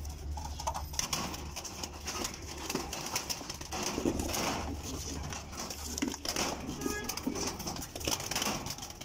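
Small pet birds and pigeons cooing and calling together in a home aviary, a steady busy chatter of soft coos and chirps filling the space without talk.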